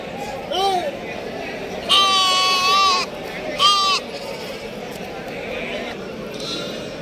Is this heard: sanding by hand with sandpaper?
no